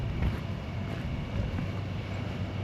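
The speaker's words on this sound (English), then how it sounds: "this wind is gonna be an issue" Wind buffeting an outdoor microphone, a continuous low rumbling roar with gusty swells and no other clear sounds.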